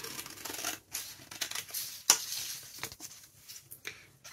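Scissors snip carefully around the edge of a paper envelope, producing soft, irregular crisp cuts and paper rustles with one sharper click midway.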